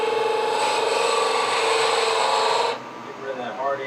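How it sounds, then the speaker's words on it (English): Spindle gouge rounding over the edge of a wooden acorn spinning on a lathe, a loud continuous rasping cut that stops abruptly near the end, followed by fainter scraping touches. "Okay, now I'm going to round that over with a spindle gouge."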